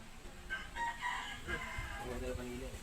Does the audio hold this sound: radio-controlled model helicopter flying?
no